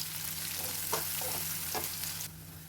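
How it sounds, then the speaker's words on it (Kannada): Onions with curry leaves fry in hot oil until golden, a steady close sizzle with a few soft stirring scrapes and a low hum underneath before the sound drops off abruptly. "ಚೆನ್ನಾಗಿ ಈರುಳ್ಳಿ ಗೋಲ್ಡನ್ ಕಲರ್ ಬರೋವರೆಗೂ ಈ ರೀತಿ ಫ್ರೈ ಮಾಡ್ಕೋಬೇಕು"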